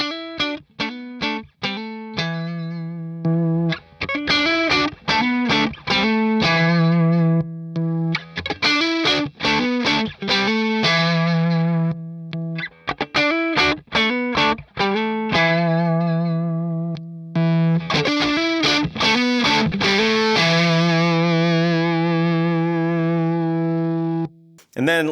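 Electric guitar on the neck pickup played through modern classic overdrive pedals, giving a loud, sustained, driven tone with strummed chords and ringing notes that run nearly continuously.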